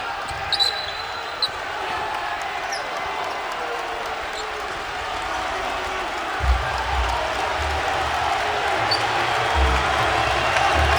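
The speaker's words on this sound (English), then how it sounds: "the crowd making more noise" Crowd noise in a basketball arena during a college men's game at the Ferrell Center in Waco, a steady murmur of fans with ball bounces and sneaker sounds, swelling louder in the second half, with commentators talking over it.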